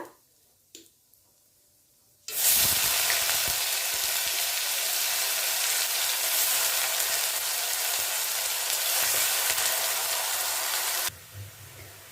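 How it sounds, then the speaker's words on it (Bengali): Onion paste sizzles loudly in hot oil with dried red chilli and bay leaf, base for a spicy deshi chicken kosha with potato; after a couple of quiet seconds a steady, close frying hiss runs for about nine seconds, then drops off. "এখন পেঁয়াজটা হালকা একটু কষিয়ে তারপর অন্য কিছু দিয়ে দেব"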